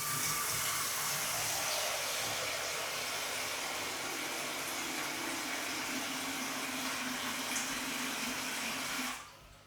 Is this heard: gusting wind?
no